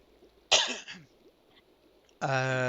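A single person's cough, one sharp close burst with a short rasping tail, alone in a quiet room before a voice begins to speak near the end.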